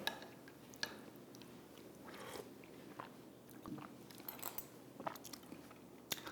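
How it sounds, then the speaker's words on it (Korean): Someone eats tom yum goong, the Thai soup with shrimp, lemongrass and coconut milk, making faint, close bites and chewing with scattered soft crunches and no talking. "똠얌꿍 먼저 먹어볼게요"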